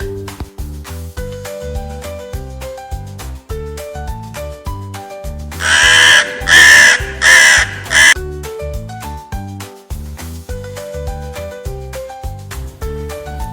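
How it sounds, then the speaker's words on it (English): A crow gives a run of several harsh, loud caws in close succession, standing out over bouncy children's background music. "crow"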